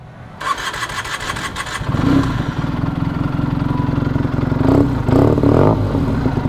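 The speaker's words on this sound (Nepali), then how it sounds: "बाइकको आइडलमा सुनाउँछ है आवाज कस्तो भनेर" A motorcycle engine cranks and catches, then settles into a loud, steady idle with a rapid even chug, close by.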